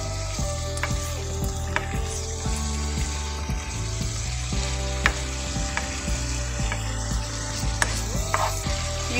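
Mushroom vindaille sizzles steadily in a pan, with repeated scraping and clinking strokes as the spoon stirs it, close and continuous throughout.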